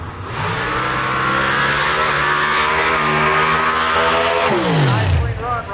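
Nitrous-boosted drag racing car making a run at Milan Dragway, a loud roaring engine climbing through gears, then a sharp pitch drop as it passes and fades, with an announcer talking over it.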